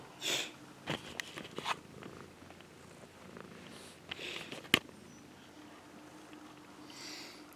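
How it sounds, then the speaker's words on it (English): A cat lying on a person's lap purrs softly and continuously at close range, with a few brief rustles and bumps scattered over the purr. "My cat's just lying on my lap, it's so cute."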